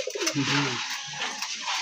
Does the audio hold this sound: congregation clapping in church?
no